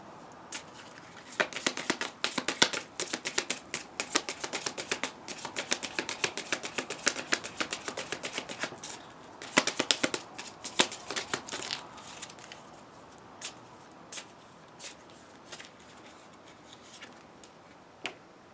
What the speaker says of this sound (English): so let's pull a few more cards here